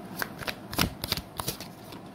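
Tarot cards being shuffled close up during a reading, with a steady run of soft riffling flutters and slaps, no voice over them.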